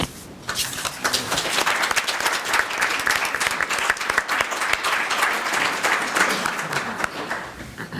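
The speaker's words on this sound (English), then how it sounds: "Let's give Steve another round of applause." A conference crowd at a Black Lives Matter event breaks into sustained, dense applause for a speaker, a loud, even wash of many hands clapping that carries on for about eight seconds without letting up.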